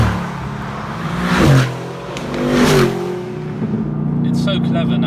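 A Mercedes-AMG GT R in Sport Plus mode, driven gently, hums with a steady engine drone that swells twice as it revs up and eases off, heard from inside the car, with someone talking over it.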